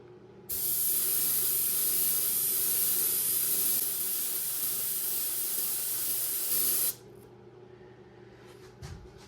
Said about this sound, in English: I'm gonna lightly spray on some of this turquoise blue onto the bait